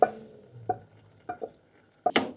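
A spoon scrapes and knocks in a pot as cooked onions are stirred into risotto with the heat off: five or six short, close clinks and scrapes, spaced unevenly over near silence.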